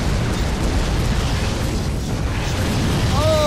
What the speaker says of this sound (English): Oh, I love the explosion.